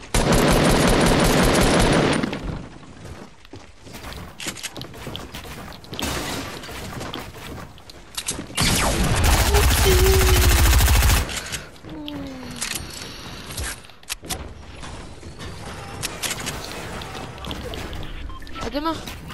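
Pump shotgun blasts and gunfire in a battle royale video game, heard as loud bursts with mechanical clatter and a gap of quieter action between them; a voice is heard under the game sounds.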